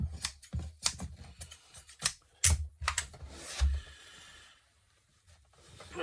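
Fabric being stapled and cut onto a dining chair seat pad, a series of sharp, irregular snapping clicks and snips close by, fairly quiet, with no talking.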